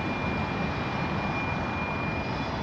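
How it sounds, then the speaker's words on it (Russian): An airplane passes overhead as a steady, broad engine roar, loud and continuous throughout, with no talk heard. "Самолет летит."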